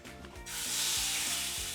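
Lamb chops deep frying in hot oil, a bright, dense sizzle that bursts in abruptly and holds steady and close over a faint low rhythmic thump.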